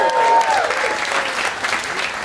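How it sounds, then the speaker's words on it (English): Stand-up comedy audience bursting into applause, a dense wash of clapping that swells at first and then slowly tapers off, with no talking. "I don't need your claps."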